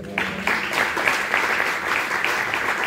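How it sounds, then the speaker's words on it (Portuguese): A church congregation at a Sunday morning worship service claps steadily and densely throughout, a crowd's applause sounding fairly close and full without pause. "Aplauda o Senhor."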